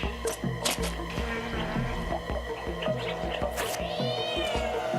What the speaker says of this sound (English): Sneaky cat.